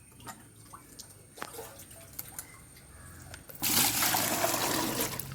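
Water is poured into a small garden pond. Scattered drips and soft trickles come first, then a sudden, loud, steady gush of pouring water close by.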